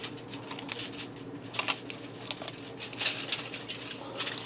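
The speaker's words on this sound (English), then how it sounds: "we're just going to cut the backbone right out" Scissors or a knife cutting the backbone out of a whole raw chicken for spatchcocking, giving irregular crunchy snips and cracks that come close and moderately loud, with small rustles between them.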